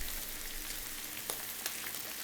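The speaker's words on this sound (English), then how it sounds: "I like to combine butter and olive oil when I'm sauteing." Butter and olive oil sizzle faintly in a sauté pan, a soft, continuous hiss broken by a few small pops and crackles.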